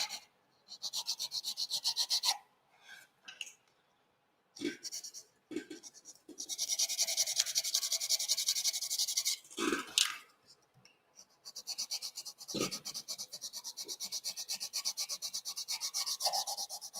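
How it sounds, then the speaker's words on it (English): A file rasps along the edge of a Klingon starship model part in several separate close-up strokes, a gritty scraping broken by pauses and small knocks. "as I'm filing this edge away here"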